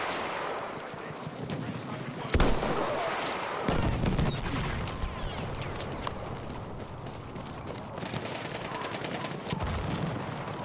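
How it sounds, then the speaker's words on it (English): Machine gun fire in the video game Battlefield 1, heard as sustained rattling bursts with sharp louder hits near 2.5 and 3.7 seconds, amid a dense battlefield din with voices. "machine gun."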